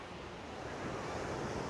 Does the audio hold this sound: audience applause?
no